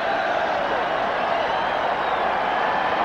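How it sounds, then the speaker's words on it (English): A large crowd roars steadily at a baseball stadium doing the wave during the 1986 ALCS Game 6 between the Angels and Red Sox, a continuous distant cheering wash with no breaks. "Crowd with a wave."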